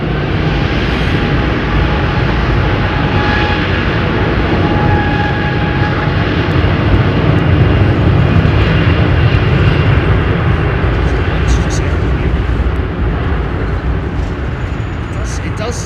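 A jet airliner, either a Boeing 787-10 or an Airbus A350-1000, passes at London Heathrow Airport: a loud, steady engine roar holds for the whole stretch, while a voice talks faintly beneath it.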